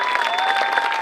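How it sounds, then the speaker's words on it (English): Applause at a high school graduation ceremony for the Class of 2020, a dense steady clatter of many hands clapping throughout, with a faint steady tone running underneath. "And I think they deserve a round of applause."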